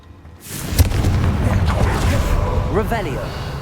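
A Confringo blasting spell in Hogwarts Legacy erupts in a single booming explosion, followed by a loud, rumbling roar that lingers for several seconds.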